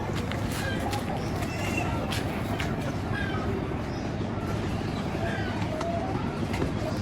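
A young pigeon coos softly in a loft, low rounded calls repeating under a dense, steady background rumble, with a voice speaking at times.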